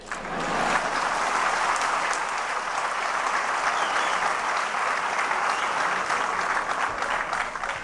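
An audience at an opening ceremony breaks into sustained, even applause that swells after the first second and continues at a steady level, with faint crowd murmur underneath.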